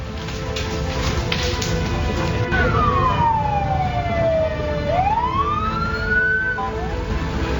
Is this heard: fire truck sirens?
yes